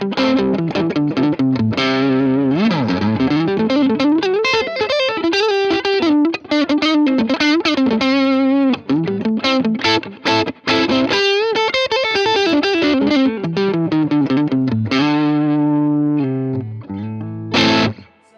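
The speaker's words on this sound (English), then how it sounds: "So Tube Screamer, everybody knows this sound." Electric guitar driven through a Tube Screamer Mini overdrive pedal plays a loud, continuous distorted riff with bends and sustained notes, ending in a quick high flourish, with no talking.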